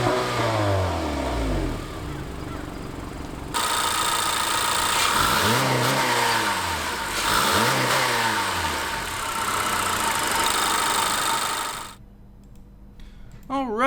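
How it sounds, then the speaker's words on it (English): A 2016 Honda Accord Sport's inline-4 engine cranks and fires, revs up and down in several swelling pulls, then settles near the end into a steady idle, close and loud with no talking. "So let's start the engine up and see how that sounds."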